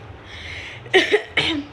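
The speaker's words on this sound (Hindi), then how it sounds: "मेरे को खांसी हो गई है" Two harsh, close coughs in quick succession, each a short raspy burst after a moment of quiet breathing.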